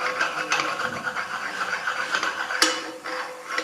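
A flat stone rubbed over the burred table of a grinding machine during scraping, making a continuous harsh rasping with short repeated strokes, close and steady.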